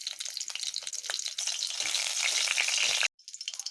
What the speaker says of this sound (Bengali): ফোড়নটিকে একটু কড়া করে ভেজে নিলাম।